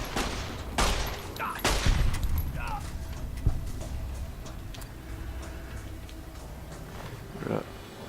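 Enemy gunfire in the video game Fallout New Vegas: several sharp shots crack out early, then scattered fainter pops over a continuous game background, while someone talks in French over the action.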